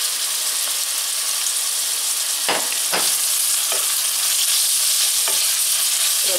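Red onion dropped into hot oil for stewed potatoes hisses in a loud, continuous sizzle, with a few sharp spatula scrapes against the pan.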